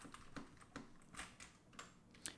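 Xiaomi mechanical gaming keyboard with hybrid red and black switches being pressed down in the middle, giving a series of light, close clacks and taps at an irregular rhythm, with no voices.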